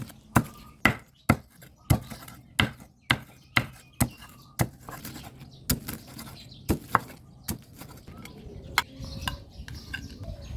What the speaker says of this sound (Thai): เสร็จแล้วก็มาสับเป็นชิ้นจัดใส่จานครับผม